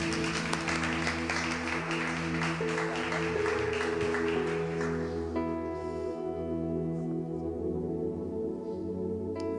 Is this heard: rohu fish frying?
no